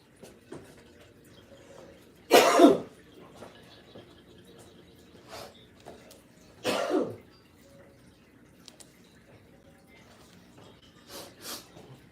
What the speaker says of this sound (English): My cough is acting up